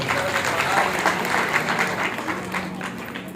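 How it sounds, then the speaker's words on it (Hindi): Steady, fairly loud applause from the audience at a Shiv Mahapuran religious discourse gathering, a continuous dense patter of many hands throughout, with some crowd murmur mixed in. "तो इनके लिए ताली की सेवा कीजिए।"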